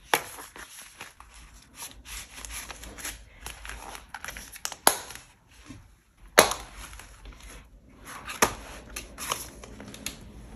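Paper cash bills and cash envelopes are handled up close: soft crinkles, rustles and shuffling, with sharper flicks and taps scattered throughout.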